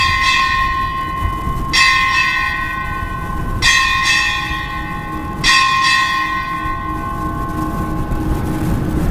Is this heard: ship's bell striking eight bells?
yes